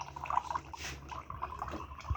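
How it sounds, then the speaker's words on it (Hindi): Fresh malta orange juice pours into a glass with a soft, continuous liquid trickle and faint drips, heard close and fairly quiet with no speech over it. "निकलता जाता है और ये देखें हम गिलास में ऐड करते जाते हैं।"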